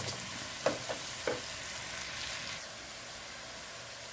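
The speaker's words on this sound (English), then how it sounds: "So I'll be frying my onions" Onions fry in a pan with a soft, even sizzle, broken early on by a few quick scraping stirs before the frying settles back to a low, steady crackle.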